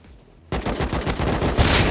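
Rapid gunfire in the video game Rust: after half a second of quiet, a loud, dense burst of automatic shots rattles on steadily with no talk over it.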